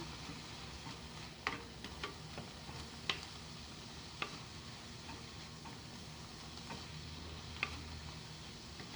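Ground coconut paste is stirred into snake gourd and egg thoran in a pan, with faint scraping and clinks of a spoon over a soft, steady sizzle, a few sharper taps standing out.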